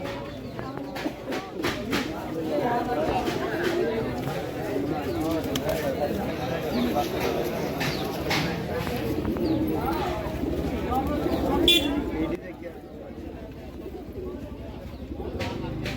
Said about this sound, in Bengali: এই যে এত কবুতর দেখতেছেন